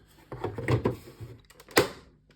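Close plastic handling rustles lead into a sharp snap as a PlayStation 5 plastic cover's rear tabs click into place, with no talking.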